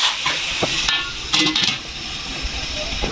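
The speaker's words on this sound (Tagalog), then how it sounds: "Ayan, tumukulo na." Pork dinuguan boiling in a covered pot, a hissing steam bubble with a couple of metallic clanks of the lid and brief louder bursts, close and moderately loud, with light talk nearby.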